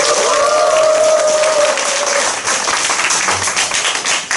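An audience claps in a lecture hall to welcome a speaker, a dense wash of applause that thins and fades toward the end, with a faint tone and scattered sounds beneath.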